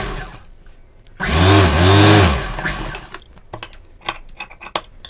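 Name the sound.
sewing machine stitching a blouse collar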